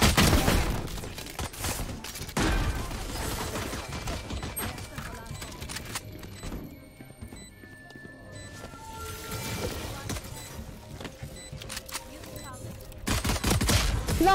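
Gunfire in a shooter video game: bursts of rapid shots and scattered single reports come in clusters at the start, middle and end, with a quieter stretch between. A player talks over parts of it.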